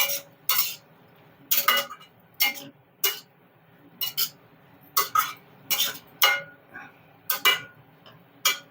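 Ridge gourd pieces stirred with chili and cumin spice powder in a pan, giving about a dozen sharp, evenly spaced metallic scrapes and clinks of a spoon against the pan, close and distinct, with no talking.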